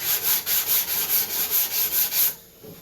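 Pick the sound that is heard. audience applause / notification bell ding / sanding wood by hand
sanding wood by hand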